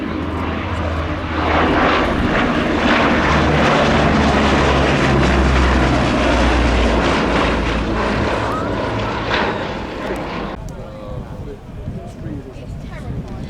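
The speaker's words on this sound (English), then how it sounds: "Another Bristol Mercury engine firing up on the Lysander." Bristol Mercury radial engine starting up on a Westland Lysander at an air show, a loud rumbling roar that builds quickly, holds strongly, then fades and drops off sharply near the end, with people talking nearby.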